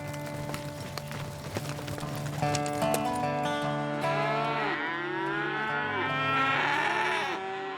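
Cattle on a working ranch in flat Texas scrubland, with several nearby moos rising and falling over a steady low background, some overlapping, alongside livestock stirring and hoof clatter.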